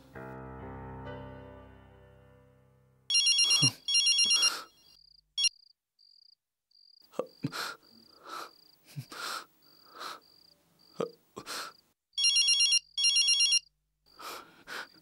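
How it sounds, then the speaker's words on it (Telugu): An electronic telephone ringtone chirps in repeated short bursts and pauses, loud and close, with crickets trilling softly in a quiet night background. "ఫోన్ తీరా, ఫోన్ తీరా."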